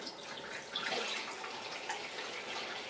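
Water pours steadily into a vessel while making homemade wine, a continuous close splashing and trickling rush that runs without a break.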